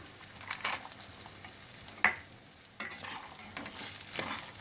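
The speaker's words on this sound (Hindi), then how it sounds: "और अच्छे से मिक्स कर लेंगे और इसको भून लेंगे।" Cashews, raisins, chironji and almonds stirred and roasted in a pan, soft sizzling broken by scrapes of a spoon and one sharp clink against the metal, close and fairly quiet.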